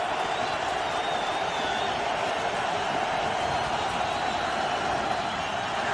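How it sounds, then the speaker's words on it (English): Football stadium crowd at a Philadelphia Eagles home game against Washington: a steady, dense roar of many voices throughout, with scattered cheers and whoops in the wash. "Crowd's trying to get into this game"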